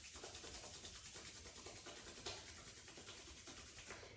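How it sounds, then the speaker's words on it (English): Palms rub briskly together in a quiet room during a seniors' gentle movement class, a soft, continuous dry friction with a steady back-and-forth texture and one slightly louder stroke midway. "rub the hands together like you're warming up"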